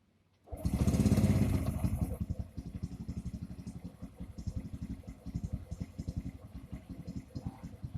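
A motorcycle with a PGMFI fuel-injected engine cranks and fires with a loud burst, then settles into a steady, rhythmic idle of close, even pulses.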